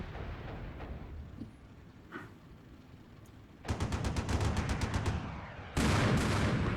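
Tank cannon and machine-gun fire in the Armored Brigade II wargame, set in a NATO defense of West Germany: a quiet stretch, then a burst of rapid repeated shots followed by a loud sustained blast near the end.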